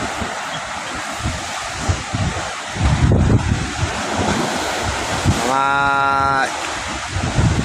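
Large waves churning on Manila Bay in bad weather, continuous loud surf and wind rumble with a brief word spoken and a short tonal whine partway through.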